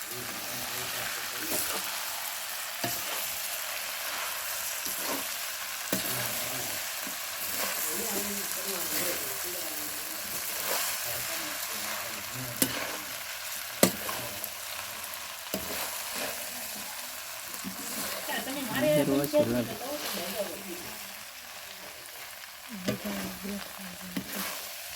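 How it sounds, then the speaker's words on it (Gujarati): Batata poha is stirred slowly in a pan, giving soft scraping sounds over a continuous low sizzle, with a voice heard talking at times in the background. "ધીમે ધીમે હલાવવા મળવાનું, એટલે છે ને નીચે ન પડે એમ."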